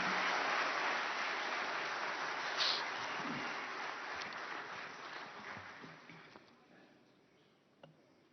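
An event audience in Delhi applauds the Prime Minister with a wash of steady clapping that fades gradually toward the end, moderately distant and soft.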